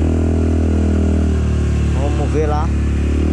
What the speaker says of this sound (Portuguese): Aí estamos indo de moto aí